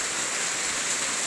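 Rain falls in a steady, dense hiss with no separate drops standing out, loud and even from start to finish.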